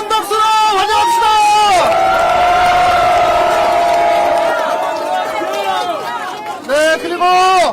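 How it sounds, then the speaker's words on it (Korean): Crowd at an outdoor Korean presidential campaign rally for Lee Jae-myung cheers and applauds loudly, with a sustained roar of voices over a steady backdrop; an amplified announcer's voice is also heard at the start and end. "뜨거운 박수로 환영합시다."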